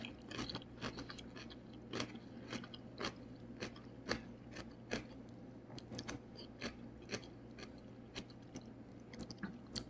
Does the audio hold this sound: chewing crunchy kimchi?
yes